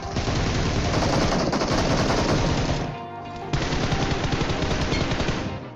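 M4 rifle fire in a mobile battle royale shooter, loud and close, sounds as sustained rapid automatic bursts. A brief half-second break splits them before the firing resumes for several more seconds.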